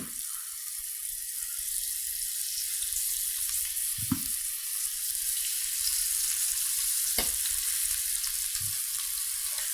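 Chicken breasts dabbed with olive oil and rub sizzling on a grill, a loud, constant hissing sizzle throughout with a few soft low knocks and clunks from handling.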